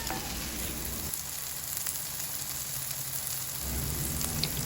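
Eggs and tomatoes sauté in a pan with a loud, continuous sizzle close up, like steady rain. A brief stir changes the texture midway. No voices.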